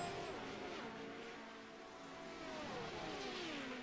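Renault turbo Formula 1 car from 1978 at Kyalami in a racing game, accelerating down the front straight with a rising engine whine, fairly faint and steady.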